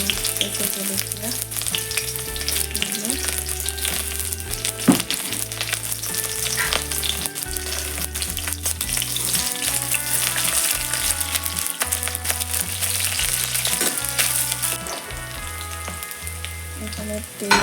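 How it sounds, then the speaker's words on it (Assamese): Onion, garlic and green chili frying in hot oil in a kadai, a loud continuous sizzle with occasional stirring clatter and utensil knocks close by. "এইফালে কেৰাহীত তেলখিনি গৰম হোৱাৰ পিছত পিঁয়াজ দি এইফালে নহৰু দি দিলোঁ আৰু কেঁচা জলকীয়া"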